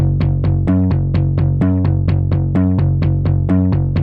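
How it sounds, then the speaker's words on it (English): Fat slapped bass guitar sample from a tech house pack, playing a steady, punchy repeating riff of plucked, percussive notes, loud and upfront with no voices. "Then we have bass slap, which is a fat bass guitar sample."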